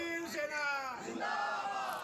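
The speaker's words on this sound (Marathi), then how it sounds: "शिवसेना उद्धव बाळासाहेब ठाकरे गटाच्या विजयी नगरसेवकांनी मातोश्रीवरती जाऊन एकच जल्लोष केलेला आहे" Supporters of the Shiv Sena (Uddhav Balasaheb Thackeray) faction celebrate winning councillors in the courtyard of Matoshree, Mumbai. A crowd cheers and chants in sustained, loud, overlapping shouts.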